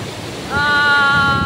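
Strong flow of water at Tinuy-an Falls, a broad steady roar of rushing water and wind-blown spray, with a tonal whine cutting in partway through.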